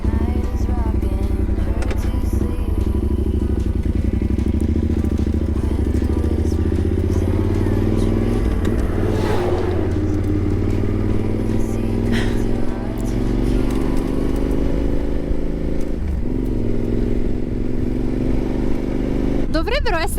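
A motorcycle engine runs steadily and loudly throughout, its low rumble rising and falling in pitch with revs, on a roadside stop near Puerto San Julian in Argentina; voices talk faintly over it.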